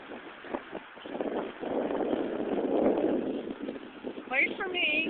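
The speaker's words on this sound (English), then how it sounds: "It's really windy out here." Strong wind gusts across the microphone at a beach at low tide, a steady rushing roar that swells and fades, with a voice and other speech over it near the end.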